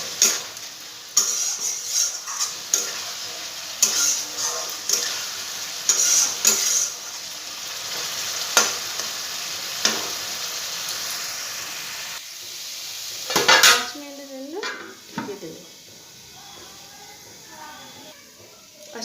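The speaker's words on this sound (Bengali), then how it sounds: "আমি আলুটা দিয়ে দিলাম আলুটা দিয়ে ভালো মতন অল্প সময় কষিয়ে নিতে হবে" Potatoes sauté in a pan with sautéed peas, a steady sizzle under repeated scraping and clinking of a spoon stirring against the metal, close by, with brief louder clatters and a quieter stretch near the end.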